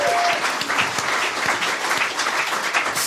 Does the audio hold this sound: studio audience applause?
yes